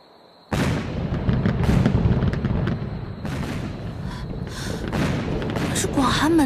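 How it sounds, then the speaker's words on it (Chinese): Large fireworks going off as a drama sound effect, a dense series of loud booms and crackles that continues steadily after a sudden start. "广寒门办什么喜事，放这么大的烟花"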